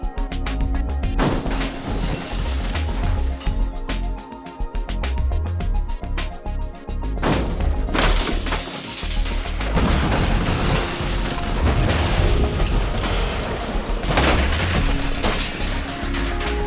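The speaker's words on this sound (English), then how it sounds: "the car is placed into the mobile car smasher" A mobile car smasher crushes a scrap car at a recycling yard, with loud repeated crunching bangs, metal crashes and shattering bursts over a constant machine drone, close and heavy throughout.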